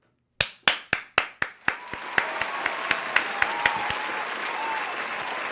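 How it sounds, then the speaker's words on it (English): A burst of applause at a streamer's celebration, opening with a run of sharp, evenly spaced hand claps that give way to a fuller wash of clapping from several people, standing alone without talk. "Let's clap it up for that, man."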